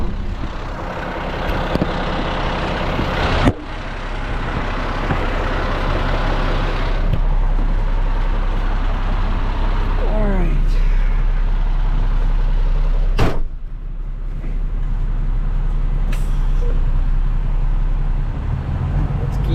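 Dump truck used for hauling gravel on a building site, a loud low diesel rumble with idling drone, a few sharp clanks and hiss bursts, and a brief mechanical squeal midway.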